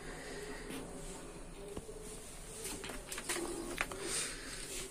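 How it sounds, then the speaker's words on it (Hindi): Pet pigeons cooing softly in a loft or coop, with low murmuring calls and a few brief wing or foot scuffles against steady background noise, no talking. "इससे पहले कबूतर देख लेते हैं मेरे सब सारे सही है कि नहीं है"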